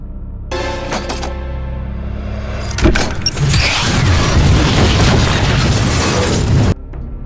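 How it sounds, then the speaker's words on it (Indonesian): A big explosion in a hacker action film erupts as a sharp burst, then a long, loud, roaring blast of debris that cuts off abruptly after a low hum. "langsung memicu ledakan besar"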